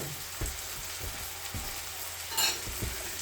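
Garlic and onions fry in oil while being stirred for a homemade spaghetti bolognese, a continuous close sizzle with periodic scraping thumps from the spoon and a brief brighter hiss.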